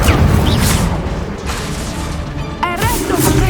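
An Incendio fire spell erupts in Hogwarts Legacy, a loud booming blast with rumbling crackle, followed by a brief bright chime-like effect near the end.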